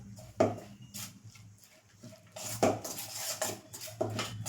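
Corn pakoda batter for bhajiya is stirred in a bowl, with a spoon clinking and scraping against the sides in uneven bursts, close and fairly quiet.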